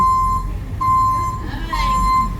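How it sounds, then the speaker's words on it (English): An armored truck's reversing alarm beeps in long, regular tones, loud and close, while people talk nearby on a street in Nassau, Bahamas. "Try to get away from this beeping."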